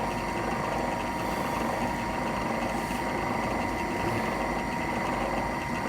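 A steady, loud mechanical whir of a drill boring into a pipe held in a vise, running continuously, with a constant grinding drone and no pauses or voices.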